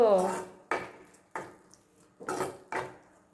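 Five separate metallic scrapes and clanks of a spoon against a cooking pot as curd is stirred into meal maker gravy, each stroke ringing briefly and then fading, the strokes close together and loud.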